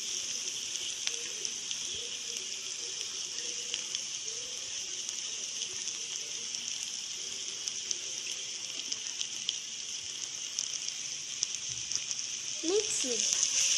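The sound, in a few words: chopped carrot frying in a pan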